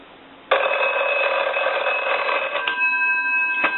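A British Telecom desk telephone bell rings loudly and continuously with a bright metallic trill, nearby, breaking briefly before ringing on.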